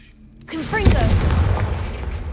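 Confringo fire spell in Hogwarts Legacy, a deep booming blast that bursts in suddenly, with a spoken voice over the onset and a rumbling tail fading slowly.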